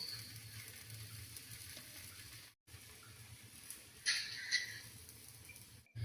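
A moong flour dosa on a hot pan gives a soft, steady sizzle as it is flipped, with a brief brighter crackle partway through; all fairly quiet and close.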